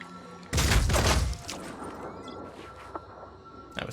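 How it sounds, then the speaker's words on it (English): A loud burst of automatic gunfire erupts in Phoenix Point, a dense close-range volley lasting under a second, followed by softer scattered impacts and a final sharp shot. "Return fire."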